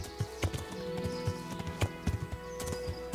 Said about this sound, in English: I wonder if it costs more stamina for the horse to run around on non-paths.